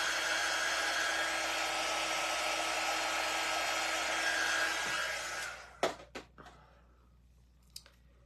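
A hair dryer blows steadily over a raffia craft piece, its loud continuous whoosh lasting about five seconds before it switches off, followed by a few soft handling taps and clicks.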